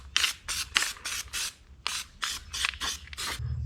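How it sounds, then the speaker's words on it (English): Adhesive being worked onto an IH 1066 tractor transmission gasket, heard as a series of about ten short, close scraping rubs in an even back-and-forth rhythm, with a brief pause midway. "I'm gonna put some more adhesive on this gasket"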